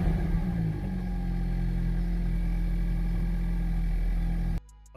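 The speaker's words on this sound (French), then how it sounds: "on va faire un petit démarrage, comme ça vous allez pouvoir entendre le son du mazou" A Suzuki Swift Sport 1.4L ZC33S engine runs with a steady, close, low hum and a faint higher whine. It holds evenly for several seconds, then cuts off abruptly near the end.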